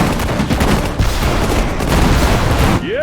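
Dense bursts of rifle and machine-gun fire rattle continuously in a Sudden Strike 4 World War II battle in the Hurtgen Forest, with a sharp whistling shell at the very end.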